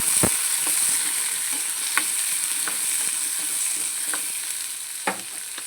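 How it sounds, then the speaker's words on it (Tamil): Ginger and garlic fry in hot oil for a village-style mutton curry, a steady loud sizzle with spatula strokes scraping the pan at regular intervals, no voices. "இது கூட இஞ்சி பூண்டையும் போட்டுடலாம் போட்டு நல்லா ஒரு டூ மினிட்ஸ் ஃப்ரை ஆகட்டும்"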